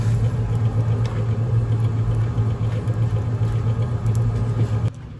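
An outdoor wood boiler's blower runs in a steady, loud, close hum with a low droning rumble, continuing alone until it cuts off abruptly near the end.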